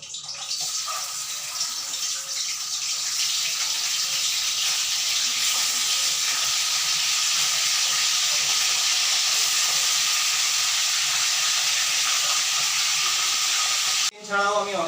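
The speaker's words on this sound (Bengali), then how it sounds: "আমি আমার ভিনিগার দিয়ে ম্যারিনেট করে রাখা চিকেনের টুকরোগুলো তেলের মধ্যে ছেড়ে দিলাম" Vinegar-marinated chicken pieces dropped into hot oil, a loud, steady, close sizzling hiss that holds for many seconds before a brief break and a final clatter.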